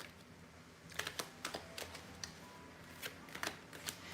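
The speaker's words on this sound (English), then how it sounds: "Let's get 3 more cards here." Tarot cards being shuffled, soft papery riffles and sharp card taps at an irregular rhythm, faint and close with no talk.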